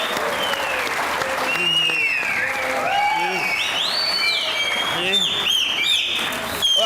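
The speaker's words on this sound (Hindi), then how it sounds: "आपकी भरपूर तालियों में चौधरी शुजा।" A studio audience at a television chat show claps loudly and steadily throughout, a dense wash of applause with bright whistling musical tones sweeping over it.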